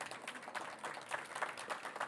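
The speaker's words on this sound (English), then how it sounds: "If we give them a round of applause" Audience applause for a panel of speakers at a swimming pool operators' network event, a steady, soft, distant patter of many hands clapping throughout.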